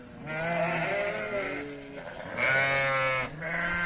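Sheep and lambs bleat close by in a flock during snowfall, three drawn-out wavering calls in quick succession, with no other sounds around them.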